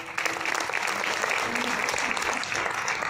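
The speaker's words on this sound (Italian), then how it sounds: "Meritatissimo l'applauso alla poetessa Eleonora Di Capomastro." Audience applause for a poet at a poetry prize ceremony, dense steady clapping from a hall full of listeners, moderately loud and continuous throughout.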